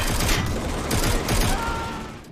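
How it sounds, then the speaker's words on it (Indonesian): Two gunshots ring out in a post-apocalyptic film scene, sharp loud bangs over a dense, noisy backdrop of rumble and action sound, with no speech. "dua tembakan yang entah dari mana datangnya mengenai Crows dan sang jenderal sendiri"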